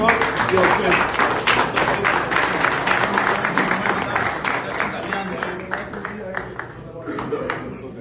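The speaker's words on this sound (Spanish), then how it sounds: "demos de nuevo un fuerte aplauso a nuestro expositor de hoy" An audience gives sustained applause for a speaker at a meeting, a dense, steady wash of clapping that gradually tapers off, with voices talking over it.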